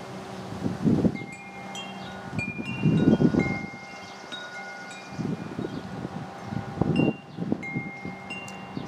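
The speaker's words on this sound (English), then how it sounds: "it's very breezy out here this afternoon." Breezy afternoon wind outdoors at a fishing spider habitat, blowing in loud, rumbling gusts against the microphone that swell and fade every couple of seconds with rustling between them.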